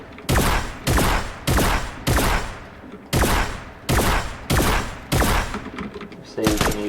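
Shotgun blasts in an aim-training video game routine, nine loud booming shots fired in a steady rhythm about every three-quarters of a second, each with a short decaying tail and a brief gap midway.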